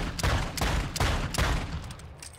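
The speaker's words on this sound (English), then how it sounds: "It's going to automatically apply rapid fire." Rapid-fire weapon shots in Warzone 2, several loud, close bursts in quick succession, each a sharp crack with a booming low tail, repeating about every half second.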